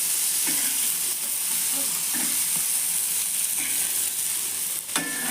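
Masala-stuffed okra frying in oil in a pan, a continuous close hiss and sizzle with occasional soft stirring taps and a brighter clatter near the end, no voices.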